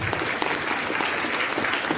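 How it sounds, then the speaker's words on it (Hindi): Audience applause at a Rajyog meditation talk in Ambala City, a steady, dense wash of many hands clapping throughout without a break. "इनकी ईमानदारी के लिए तालियां बजाएंगे आप"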